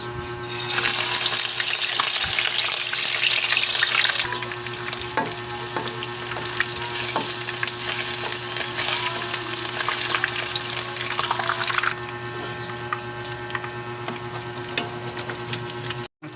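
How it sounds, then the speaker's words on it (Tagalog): Shredded papaya and shrimp fritters frying in hot oil, a loud, dense, steady sizzle running the whole time, easing off a little near the end. "Okay, prito ko na po."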